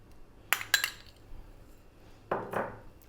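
A utensil scrapes and clinks against a bowl in two short bursts while egg, mayonnaise and mustard are mixed, with quiet gaps between.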